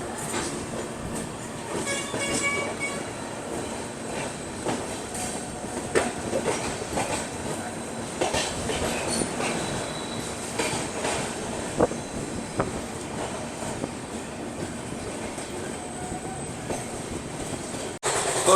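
A Delhi–Patna special passenger train rolls along the tracks in Bihar, heard from inside as a steady rumble with rhythmic clickety-clack of wheels over rail joints, moderately loud and continuous.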